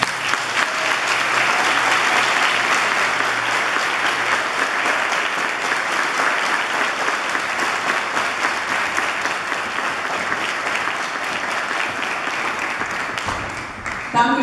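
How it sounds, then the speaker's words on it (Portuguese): A church choir anniversary audience claps warmly and continuously, a thick, even roar of applause that stays strong throughout and thins slightly near the end before a few final claps. "E a gente, claro, vai receber isso com uma salva de palmas."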